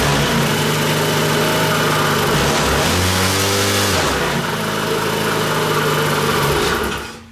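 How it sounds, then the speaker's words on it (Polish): A small four-stroke Zipp Vapor scooter engine runs steadily at close range, its pitch dipping and rising midway as it revs, with a rough, buzzing mechanical tone and bad-sounding noises throughout. "słyszę tutaj niedobre odgłosy w tym silniku"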